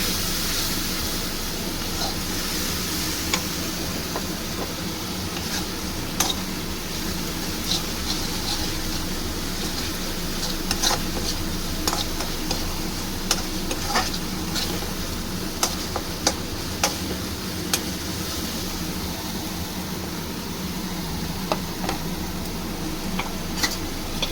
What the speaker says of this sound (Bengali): একটু নাড়বে মশলাটা কষাবো